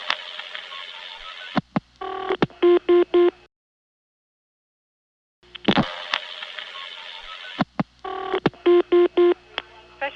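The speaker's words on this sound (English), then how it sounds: "The trunk flashes, and it keys a 3-digit code that sounds very much like" A 1982 Siemens motor telephone switch in Ocala, Florida, flashes a trunk and keys a three-digit code: a line tone, then a quick run of clipped multifrequency beeps, a silent gap, and the same sequence repeated, loud and clean.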